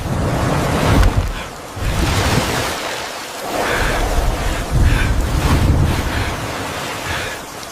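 Sea waves surge and wash ashore in repeated swells, with steady wind gusting across the microphone and a constant broadband roar filling the air.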